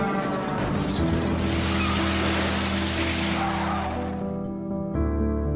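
A bus skids along a road with a long, loud tire squeal and grinding roar that fades toward the end, ending in a heavier low rumble like an impact.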